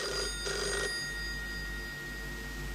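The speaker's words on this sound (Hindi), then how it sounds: "मैं फोन देखूं, शायद उन्हीं का हो।" A telephone bell rings in one short, faint burst near the start, followed by a low steady hum in a quiet indoor room.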